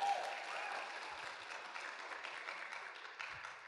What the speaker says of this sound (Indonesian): Tepuk tangan untuk pengundang Anda Bapak Ibu.